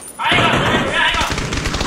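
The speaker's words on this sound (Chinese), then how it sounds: "你怎么突然开枪了？" Video game gunfire erupts as a dense, loud burst of rapid shots lasting under two seconds, close and harsh.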